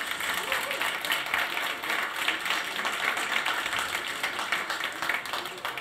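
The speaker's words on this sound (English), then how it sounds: "So I think it deserves some applause, maybe." Audience applause at a Lean DUS meetup talk with a speaker, a steady dense wash of many hands clapping that holds evenly for several seconds, with some voices mixed in.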